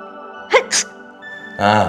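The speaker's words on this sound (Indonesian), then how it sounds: "Tuh kan kamu bersin kan?" A person sneezes in an indoor drama scene: two quick, sharp bursts close to the microphone, followed moments later by a brief voiced sound.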